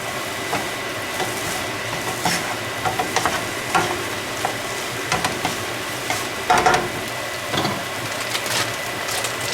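Bacon sizzling in a pan for an egg, potato and bacon breakfast bowl, with repeated scraping stirs and clinks of a utensil over a constant frying hiss, close up and without talk.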